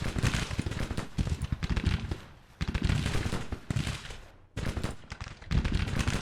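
Volleys of musket fire and cannon in Grand Tactician Civil War, a dense crackling battle roar in repeated loud bursts separated by brief lulls, with no speech.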